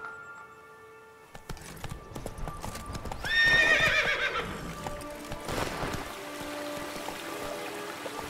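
Hooves clip-clop as Roach, the horse in The Witcher 3: Blood and Wine, runs across the game world. A whinny rises partway through, and the sound sits over game ambience and music.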